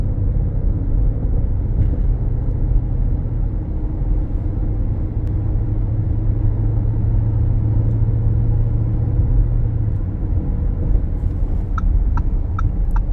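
A 2019 Lamborghini Urus is heard from inside while driving, a steady low engine and road rumble with smooth, barely noticeable gear changes and a few faint ticks near the end.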